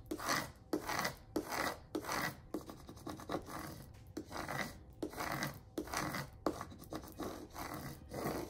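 Rubbing of a burnishing tool pressing a cut vinyl design onto its backing sheet, in repeated rhythmic raspy strokes, close and steady with brief pauses between passes.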